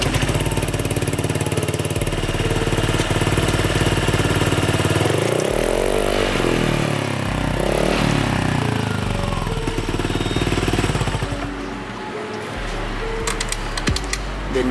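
A Honda Vario 125 scooter fitted with an aftermarket exhaust silencer idles close by, a steady loud engine drone with a low rumbling pulse that shifts and dips near the end.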